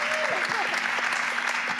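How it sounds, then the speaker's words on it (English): A crowd at a DCentral Miami digital fashion event breaks into steady, fairly loud applause that carries evenly throughout, with a low hum and a few voices faintly mixed underneath. "Let's clap."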